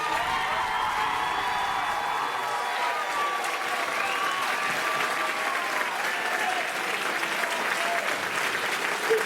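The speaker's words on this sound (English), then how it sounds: "Please give a huge round of applause to Dan Chavarria" Continuous audience applause at a spring tribute concert, steady and moderately loud across the whole stretch, with a few faint cheers and whoops mixed in and a low murmur of voices beneath.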